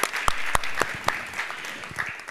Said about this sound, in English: A big round of applause for Ambassador.